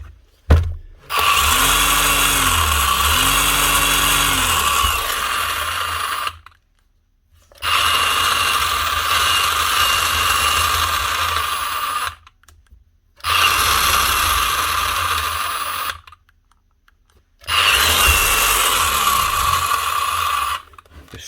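A broken Bosch, Makita, Ryobi or Hitachi rotary hammer drill on the bench runs free without hammering, its motor whirring steadily in four long bursts of several seconds each, separated by short silences, close and fairly loud.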